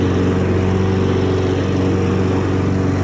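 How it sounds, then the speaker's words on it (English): A Honda HRX 217 lawn mower engine runs steadily under throttle with its self-propel drive engaged, a loud, continuous droning hum with no pauses. "You push this throttle, dude, she's doing a burnout."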